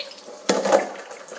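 Water runs from a kitchen tap as a whole chicken is rinsed beneath it, a soft splash starting abruptly and swelling briefly before easing into a steady, close trickle.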